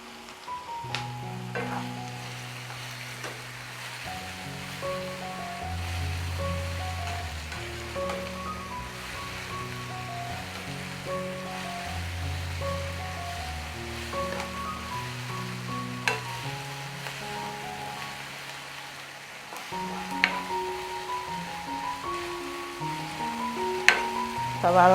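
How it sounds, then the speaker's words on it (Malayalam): Sliced onions and curry leaves fry in a pan until browning, giving a continuous close sizzle over nearly half a minute, with occasional spoon scrapes and clinks and no talking. "നന്നായിട്ട് ബ്രൗൺ കളർ ആവുന്ന വരെ സവാള വഴന്ന് വരണം"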